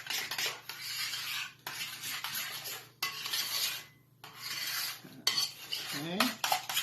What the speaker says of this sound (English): and we'll just stir this up